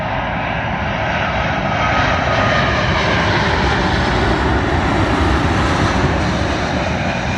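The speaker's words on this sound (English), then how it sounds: "Airbus A350-1000, this time with British Airways, working a service from Las Vegas to London Heathrow." A British Airways Airbus A350-1000 jet landing on runway 27L at London Heathrow, a loud continuous engine roar that swells gradually as the aircraft passes close by.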